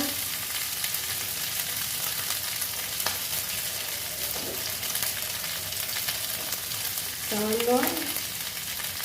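Two bay leaves fry in hot oil, giving a steady, loud, close sizzle with a few brief stirring scrapes throughout.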